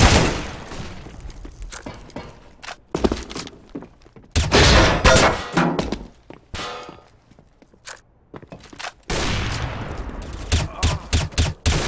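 A flashbang grenade is thrown on the Mirage map in CS:GO amid bursts of gunfire, sharp cracks and footsteps, with loud clustered blasts separated by quieter gaps.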